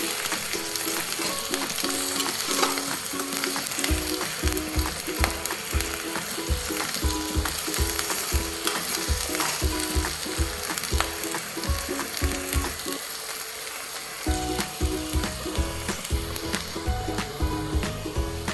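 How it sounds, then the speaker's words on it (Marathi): Okra sizzles steadily in a hot pan for dahi bhindi while a spatula scrapes and stirs in a repeated clicking rhythm, loud and close, with a short pause in the stirring near the end and no talking. "तुम्ही बघू शकता भेंडी छान अशी फ्राय होते. आपण आता असं छान असं परतून घेणार आहोत."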